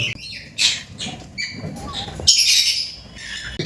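A yellow-coloured lory parrot, about one and a half years old, at a bird farm: a few harsh, shrill squawks and chirps in bursts, close and fairly loud, with someone speaking between and over the calls.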